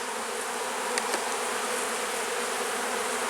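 Honey bees swarm around an open hive, a continuous loud buzz near the listener, with a couple of faint clicks and no speech.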